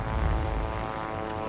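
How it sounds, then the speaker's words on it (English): Propeller warplanes, including an FW 190 A1, fly in World of Warplanes, making a loud, steady engine drone that stays close and continuous throughout, with no voices. "Cool, those are supposedly neutral planes."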